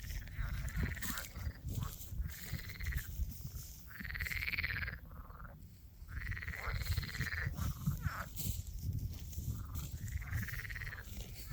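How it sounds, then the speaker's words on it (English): A loud chorus of frogs croaks continuously outdoors, layered overlapping calls pulsing in waves over a dense background din. "That's the sound of these frogs again."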